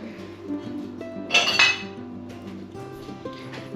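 Pumpkin pieces set down on a metal sheet pan in a home kitchen, giving a short cluster of bright clinks and clatters near the middle over a low steady hum.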